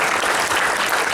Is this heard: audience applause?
yes